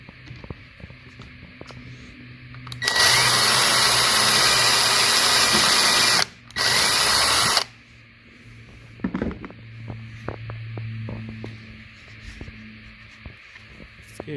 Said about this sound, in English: So let me go ahead and drill this hole